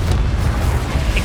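A Confringo explosion spell in the Hogwarts Legacy video game lands as a loud, deep booming blast with a rumbling low-end roar that fills the short moment, a small crackle flaring near the end.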